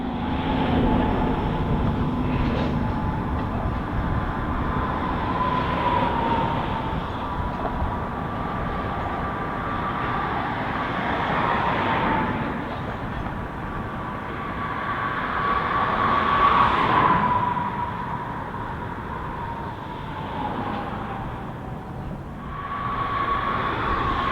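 Southern Railway diesel locomotives haul the last eastbound through train down a mountain loop line, a steady low engine rumble with rolling rail noise and a faint drawn-out horn-like tone, moderately near and continuous.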